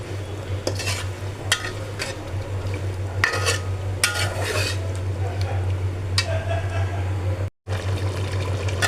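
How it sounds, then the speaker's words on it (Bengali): Vegetables for a bhuna khichuri with meat are stirred and sautéed in a pot, with a steady sizzle broken by repeated spatula scrapes and clanks, close and fairly loud, and a brief dropout near the end. "সবজিটা কষিয়ে নেব।"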